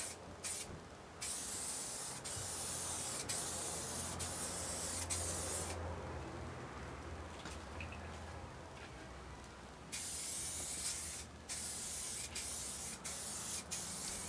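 A spray can lays clear coat onto a car part in long steady hissing bursts, close by, broken by short pauses and small clicks of the nozzle, with no talking.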